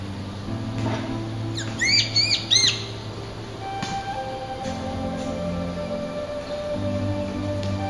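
A hill myna gives a few short, bright whistling chirps in a quick cluster, clear above a steady low background hum, followed by quieter faint calls, with no speech.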